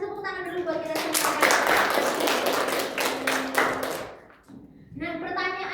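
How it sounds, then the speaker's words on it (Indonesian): Applause in a classroom at a microteaching competition, a burst of hand clapping lasting about three seconds, preceded and followed by someone speaking, with a brief lull before her voice returns. "Kita kasih tepuk tangan dulu buat kita semua."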